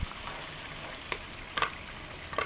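Blended chili paste for Johor-style asam pedas frying in a pan, giving a soft, continuous sizzle broken by a few brief stirring scrapes, with no talking.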